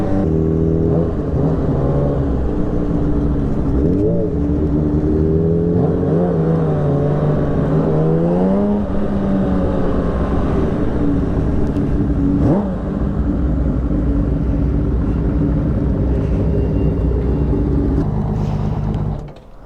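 Two motorcycles, a custom Honda Fireblade and a Honda CBX 1000, accelerate with engine roar climbing and falling through several throttle rises, sustained and close, with a smooth rising whine mid-way before settling into a steady drone.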